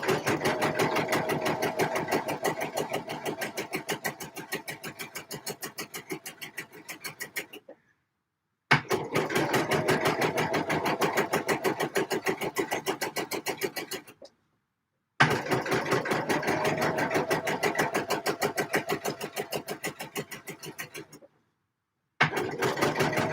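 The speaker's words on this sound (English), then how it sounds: "I've sewn my line of guide stitching" A sewing machine stitches a line of guide stitching on an Eve dress in long, steady runs of rapid needle clatter. Three brief full stops break the runs, and the sound stays close and fairly loud throughout.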